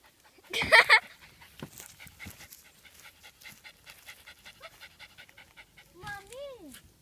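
A dog pants rapidly and steadily close by, with a sharp burst of noise at the start and a voice briefly near the end.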